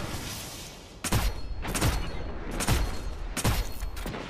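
Gunfire in the video game Destiny 2, four heavy booming shots spaced about a second apart over a constant rumbling in-game background.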